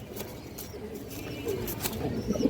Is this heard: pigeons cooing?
yes